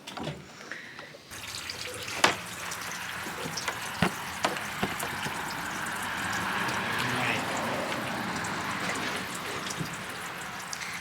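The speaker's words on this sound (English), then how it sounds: "after 3 minutes, Edward will then rinse it off with a hose" A hose rinsing a freshly scalded meat duck, steady rushing and splashing water close by that runs continuously, broken by a few knocks and thumps, with a voice talking faintly underneath.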